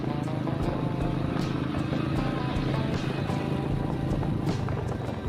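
A tractor is overtaken on a road beside mustard fields, heard as a steady, loud engine rumble with road and wind noise running continuously throughout.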